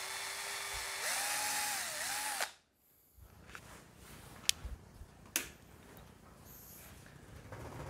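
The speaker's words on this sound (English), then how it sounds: "We are going to try to drill a hole in the middle of the piece." Small power drill boring a hole into a piece of plastic, a loud whining spin with rising pitch for about two seconds before stopping abruptly, followed by quieter clicks and handling noises.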